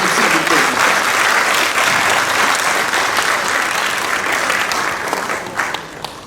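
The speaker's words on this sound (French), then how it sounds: "Je vous demande d'applaudir de cœur." An audience at a theology institute graduation applauds loudly and steadily, a dense wash of many hands clapping that carries on throughout and thins slightly toward the end.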